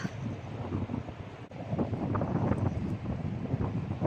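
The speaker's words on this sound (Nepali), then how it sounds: "हावा" Wind gusts across a remote mountain trail in Bajura, Nepal, buffeting the microphone with a loud, continuous rumbling roar that swells and eases without letup.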